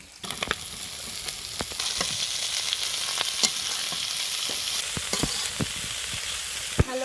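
Onion and a fish head sizzle in hot oil in a pan over a dung-cake fire, with greens, potato and eggplant, a steady loud crackle broken by sharp scraping clicks as the mix is stirred.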